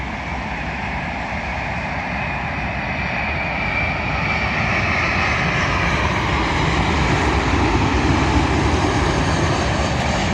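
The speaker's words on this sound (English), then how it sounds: "Arriving in now is another British Airways plane formed of a Boeing 787 Dreamliner from Cape Town, terminating here at London Heathrow Airport." A British Airways Boeing 787 Dreamliner lands at London Heathrow, its engines a loud, continuous roar that swells slightly as it passes, with no talk.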